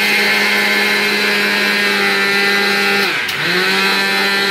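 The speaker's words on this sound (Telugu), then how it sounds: "కొంచెం ఇలాచీ అయితే వేసుకొని మిక్సీ పడుతున్నాం" An electric mixie grinder grinds roasted sesame seeds with cardamom, a loud, steady, high-pitched motor whine close by that dips briefly in pitch near the end before recovering, no talking.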